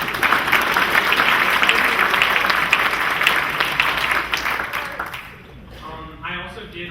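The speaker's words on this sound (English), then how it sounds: "if we could give them a round of applause" An audience at a science awards ceremony applauds in a dense, steady burst of clapping that fades after about five seconds, followed by a voice beginning to speak.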